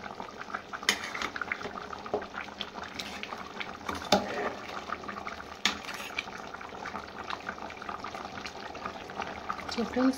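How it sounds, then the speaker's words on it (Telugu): Goat head curry simmers in a cooking pot, with soft bubbling under repeated clinks and scrapes of a metal spoon against the vessel, close and fairly quiet. "కరెక్ట్గా ఒక 20 నిమిషాలు మనం ఈ కూరని ఇంకా ఉడకనిద్దాము."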